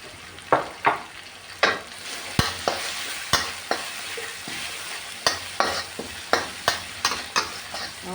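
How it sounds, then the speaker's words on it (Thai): Garlic fries in a pan for a Thai three-flavor fried tilapia dish, a constant sizzle broken by repeated sharp scrapes and clinks of a utensil stirring against the pan, close up and with no voices. "เจียวจนกระเทียมหอม"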